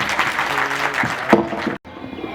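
Applause at a college welcome ceremony, a steady wash of clapping from an audience that carries on for about two seconds, breaks off sharply and then resumes more faintly.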